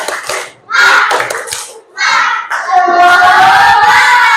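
Schoolchildren in a classroom shout a rhythmic 'tepuk semangat' clapping chant in loud bursts, with claps and voices rising together and swelling into sustained group shouting toward the end.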